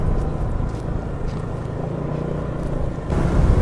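Dense road traffic in Taguig heard from inside a car, a continuous low rumble of engines and tyres with a slight swell near the end, steady and enclosed with no voices.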